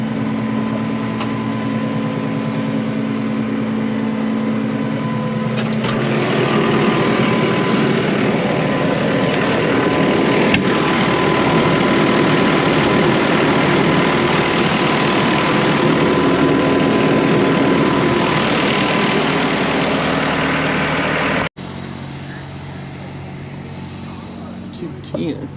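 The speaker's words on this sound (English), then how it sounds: "This is a cool tractor from New Holland." A New Holland tractor sits idling at a farm auction, its engine giving a steady, close, droning rumble for about twenty seconds before cutting down abruptly, with people talking nearby.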